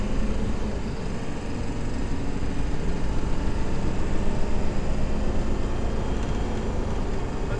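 A car engine pulls hard at full throttle after a repair, a loud, steady broadband roar with rumbling low end that holds evenly throughout, heard from close by with no talking.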